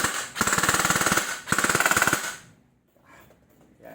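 A G&G ARP556 airsoft rifle fires full auto in two quick rattling bursts of about a second each, loud and close, then falls quiet.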